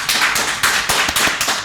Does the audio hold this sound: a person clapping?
yes